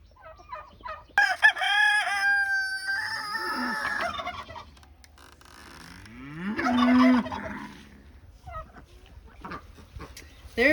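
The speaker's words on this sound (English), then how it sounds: "There's the duck and 2 chicks that we put out here about a week ago" A duck and two chicks kept outdoors at a tiny home make calls: two loud, drawn-out crowing and clucking bursts, close by, with quieter short calls between them.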